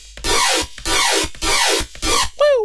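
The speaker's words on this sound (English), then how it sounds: "we're going to be showing you guys how to make this lead sound" A gritty synth lead built in the Serum synthesizer for a remake of a track. It plays four loud, rhythmic, harsh sweeping stabs, then ends on a shorter tonal bend, with no talking.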